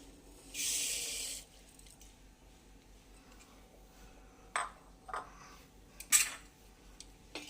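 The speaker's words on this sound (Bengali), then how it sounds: "জল দিয়ে এবার গোবিন্দভোগ চালটা আমি এর মধ্যে দিয়ে দিচ্ছি" Gobindobhog rice goes into a pot of water with dal for bhoger khichuri: a short rushing pour near the start, then scattered soft clinks and taps against the pot in a quiet room.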